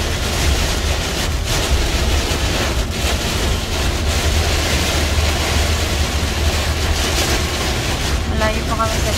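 Steady, loud roar of strong wind and heavy rain while driving, a dense broadband wash with constant rumble underneath and no clear breaks.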